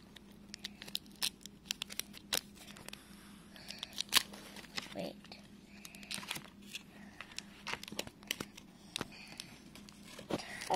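Scissors cutting open a small packet from a Treasure X Aliens toy, giving scattered snips and crinkly plastic rustling against low background hum, close and moderately quiet, with no talking.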